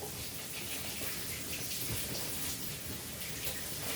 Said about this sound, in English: I literally am just tossing it around in cold water